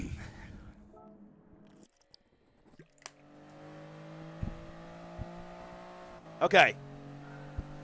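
Race car engines in Gran Turismo Sport, including a Nissan 300ZX at a rolling start, drone faintly and steadily at low level with a few clicks and a brief louder burst. Someone talks over them.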